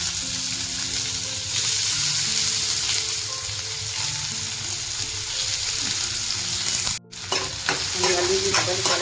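Chopped onion fries in a hot pan for fish curry, a steady loud crackling sizzle with stirring scrapes running throughout, briefly dropping out near the end before resuming.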